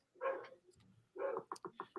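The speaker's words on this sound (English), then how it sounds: "She can't be barking at people like that." A pet dog barking indoors, heard as two loud, close barks followed by a rapid run of shorter yips.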